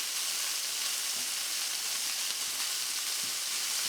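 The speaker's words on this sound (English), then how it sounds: "So what I'm going to do is put my Brussels sprouts in here and get one side caramelized." Brussels sprouts laid flat in a single layer in a hot pan, seasoned with salt and pepper, give off a steady, close, even sizzle with no break and no talking.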